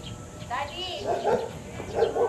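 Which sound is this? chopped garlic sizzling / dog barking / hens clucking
dog barking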